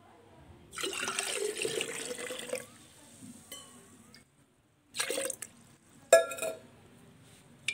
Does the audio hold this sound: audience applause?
no